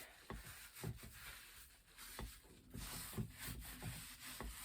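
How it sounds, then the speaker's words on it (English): Scrubbing a spinning wheel's wooden base clean of grime gives soft, repeated rubbing strokes with scattered knocks against the wood, faint and close with no talk. "get the rest of this base done. Get a nice clean, all the grime taken off of it."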